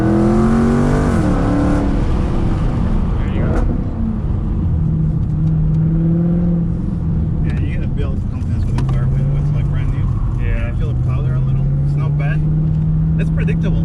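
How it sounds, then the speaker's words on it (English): A supercharged Dodge Hellcat engine revs and drones while driving, its supercharger whine rising and falling through shifts, loud and close beneath steady conversation from people inside the car. "I love how the freaking supercharger sounds."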